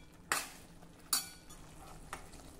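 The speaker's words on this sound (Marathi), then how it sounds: "आता हे मिक्स करूया आणि 2-3 मिनिट या सर्व मसाल्यांबरोबर ही भाजी पुन्हा थोडी शिजवून घेऊ" Pumpkin vegetable with spices gets mixed in a cooking pan: three soft scraping strokes of a spoon spaced about a second apart over a faint background hum, quiet and close, no speech.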